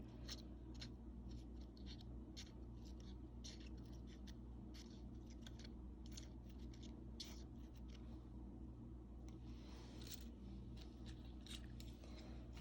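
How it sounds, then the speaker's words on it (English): Small precision scissors snipping between the petals of a paper flower, a long run of quick, faint, close snips and paper rustles over a steady low background hum. "take your precision scissors and cut in between each petal ever so slightly"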